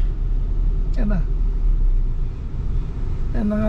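Road traffic rumbles steadily close by, a low continuous hum of passing vehicles, with a couple of brief horn-like tones and people talking over it.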